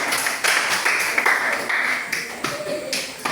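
A classroom group gives a short round of clapping for presenters returning to their seats during a teaching session, moderate and uneven against room noise.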